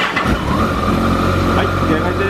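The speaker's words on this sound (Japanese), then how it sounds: "エンジン始動いきます" A Kawasaki Ninja ZX-14R sport motorcycle engine starts and idles steadily and loudly up close, a low running rumble with a slight rise in revs partway through.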